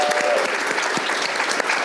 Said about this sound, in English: Maybe we can give Micah a round of applause for today and yesterday.